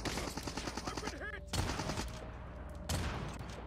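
Kilo Bolt sniper rifle firing in Call of Duty Mobile, two loud cracks spaced about a second and a half apart over continuous game noise and a brief voice.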